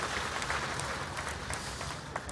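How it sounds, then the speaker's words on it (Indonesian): Congregation at an Easter sermon breaking into lively applause, a dense wash of many hands clapping at moderate distance, steady for a couple of seconds. "Tepuk tangan dulu yang meriah begitu."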